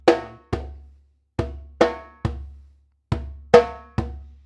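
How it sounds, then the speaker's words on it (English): Sharp timbale slaps in the asanshu rhythm, eight crisp metallic-edged strikes in an uneven repeating pattern, each ringing briefly before the next, played up close with no talking. "So adding just the slaps in for now, it's 1 and 2, 3 and 4."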